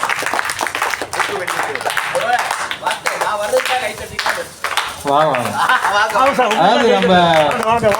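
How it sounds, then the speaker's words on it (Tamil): Audience clapping to welcome guests at an introductory speech event, steady applause mixed with overlapping voices and talk, a voice growing prominent toward the end. "நம் அனைவரும் ஒரு கரகோஷத்துடன் வரவேற்பு கொடுக்குமாறு அன்புடன் கேட்டுக்கொண்டோம்"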